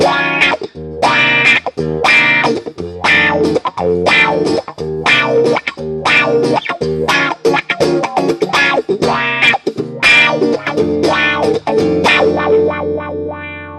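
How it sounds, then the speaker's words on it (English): Electric guitar played through a Digitech RP1000 effects and amp switching system with the wah engaged, giving a run of loud, distorted picked notes and chords with a sweeping, vocal-like tone that rings out at the end. "Now engage the wah."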